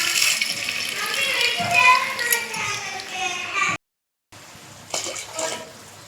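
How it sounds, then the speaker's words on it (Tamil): Tamarind water is poured into a pan of frying prawns and separated oil, a steady splashing gush for several seconds, then a short silence and a quieter bubbling burst. "இப்போ புளி தண்ணி ஊற்றிக்கலாம்."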